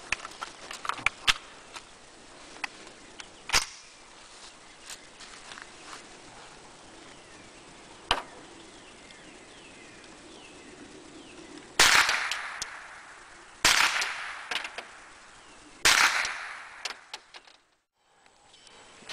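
.22 Long Rifle gunshots from Federal and Remington rounds crack outdoors at a test session, several scattered sharp reports, a few louder and nearer later on, over quiet background with no talking.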